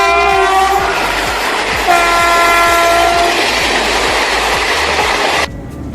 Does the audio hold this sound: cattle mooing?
no